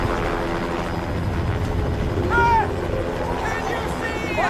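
Helicopter drawing closer in low visibility over a volcano, a steady broadband rotor and engine roar with a brief whine, while voices shout underneath the din.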